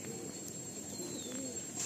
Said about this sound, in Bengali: বাহ সুন্দর পায়রা